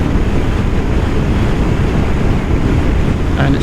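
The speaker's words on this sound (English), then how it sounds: "It's a very windy day again today." Heavy wind buffeting the microphone on a Royal Enfield Super Meteor 650 cruising at about 120 in sixth gear on a windy day, a loud, steady roar with no speech over it.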